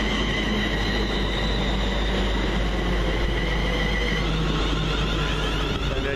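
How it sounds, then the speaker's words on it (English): A slightly delayed London Midland passenger train from Milton Keynes Central to London Euston arrives at Hemel Hempstead station, its steady low rumble and rolling wheel noise filling the whole stretch, close and loud, with no voices. "Just coming in the slightly delayed 1319 London Midland service from Milton Keynes Central to London Euston."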